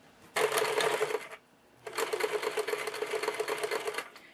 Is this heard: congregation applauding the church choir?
no